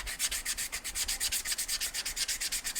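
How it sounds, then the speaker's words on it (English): Sandpaper of 80 grit scrubs the glazed lining of a Suzuki TS250 motorcycle brake shoe. The close, raspy strokes repeat in a quick, even back-and-forth rhythm with no pauses and no voices. "So, little 80 grit sandpaper."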